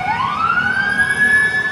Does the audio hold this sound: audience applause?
no